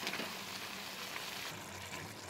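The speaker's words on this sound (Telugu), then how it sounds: "ఈ బెల్లం అంతా కరిగి ఇందులో కలిసిపోయే వరకు మనం ఇలాగే కొంచెం ఆయిల్లో ఇవన్నీ ఫ్రై చేసుకోవాలి" Ginger and jaggery sizzle in a little oil for ginger pickle, a soft, steady frying hiss with faint crackles and no voices.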